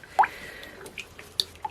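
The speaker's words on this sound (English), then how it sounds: "let me get started by just stirring this" Cold-process pine tar soap batter is stirred by hand, making soft, close, intermittent wet drips and squishy plops in an otherwise quiet room.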